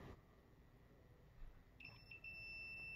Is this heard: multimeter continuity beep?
yes